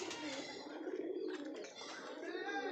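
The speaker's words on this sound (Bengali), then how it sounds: "সব পায়রাগুলো আমাদের খাবার খাচ্ছে" Pigeons at a home loft coo while they are fed, soft throaty calls mixed with a few chirpy notes, fairly close and quiet.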